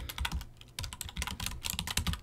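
Rapid, uneven keystrokes on a computer keyboard as a script file name is typed, clicking steadily and close up for about two seconds with no voices.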